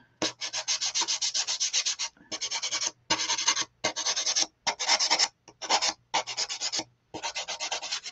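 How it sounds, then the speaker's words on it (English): Steady back-and-forth sanding strokes rasp along the edge of a faux macrame hanger, repeated in bursts with brief pauses between them, close and fairly loud with no talking. "I'm going to go ahead and I'm going to sand the edge"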